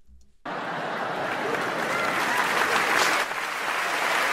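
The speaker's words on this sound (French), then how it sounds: "Oh, ça applaudit, hein." Applause breaks out suddenly from an audience at a comedy show, swelling into loud sustained clapping after a brief quiet moment, with crowd noise mixed in.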